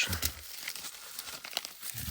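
Close plastic packaging crinkles and crackles in uneven bursts while Hot Wheels die-cast cars are unpacked from a parcel, with no talk over it.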